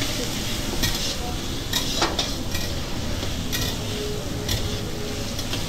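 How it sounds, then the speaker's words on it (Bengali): Boiled beans and carrots are stirred into a hot frying pan for Chinese-style mixed fried rice. The food sizzles constantly while a spatula clinks and scrapes against the pan at irregular intervals. "বিনস গাজরটাও দিয়ে দিয়েছি, দিয়ে ভালো করে নাড়িয়ে চাড়িয়ে নিচ্ছি"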